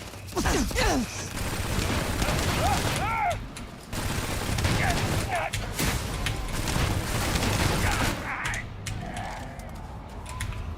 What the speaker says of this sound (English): Who's shooting at this guy?